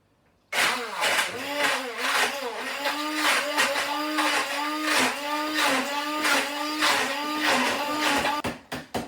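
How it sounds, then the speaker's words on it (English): A hand blender blending hummus whirs loudly and steadily for several seconds, its pitch pulsing up and down as it works, then cuts off abruptly. "I'm going to use the hand blender, and this will be a bit noisy"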